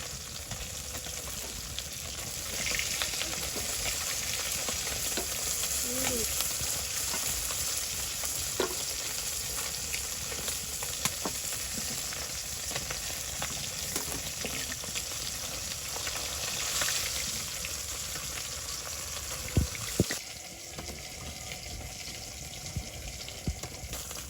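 Carp fish frying in oil in a wok over a village kitchen fire, a steady close sizzle with occasional stirring clinks and scrapes throughout, no talking.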